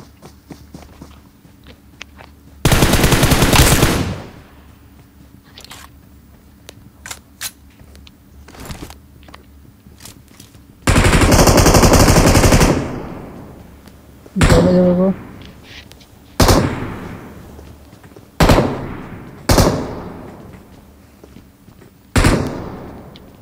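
Shotgun fire in the BGMI mobile battle-royale game: two longer roaring bursts, then five sharp single blasts about two seconds apart, each with a quick decaying tail, with voices chatting over quieter in-game footsteps and clatter.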